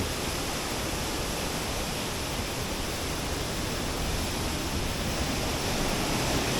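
Water thunders down Penawangan Srunggo waterfall in a steady, loud, broadband roar that fills the whole stretch without pause, with no voices.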